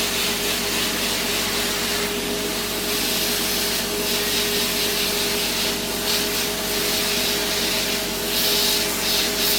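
A steady high-pitched podiatry nail drill whines and grinds continuously against a toenail, close up, with a faint rasping texture throughout.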